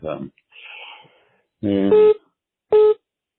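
Two short electronic tones from a telephone sound close by, mixed in with a voice talking.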